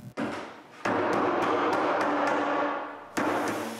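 A wooden cabinet panel is dry-fitted into its rabbet for a water cabinet, with a few sharp knocks and taps amid sustained woody rubbing and scraping, close and fairly loud.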